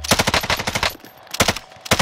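Automatic gunfire in the video game Warzone: rapid, loud bursts of shots, a long volley, a brief pause, then shorter bursts close by.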